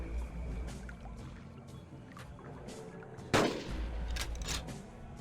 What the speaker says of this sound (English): just one 250 grain bullet should be enough to down this beast